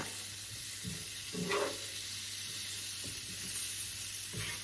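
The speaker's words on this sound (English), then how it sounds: "So I'm going to go ahead and add my shrimp." Shrimp sizzle in a hot pan with onions for paprika shrimp pasta, a steady broadband hiss with a few soft stirring clunks and scrapes, close and moderately loud, no talk.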